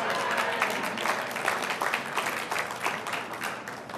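A crowd claps steadily in dense, continuous applause, filling the room for several seconds.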